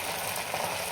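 Crispy poha bhaji frying in hot oil on low heat, a steady soft sizzle and crackle, close and even, with no voices.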